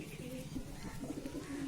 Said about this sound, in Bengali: এটা নর কবুতরটা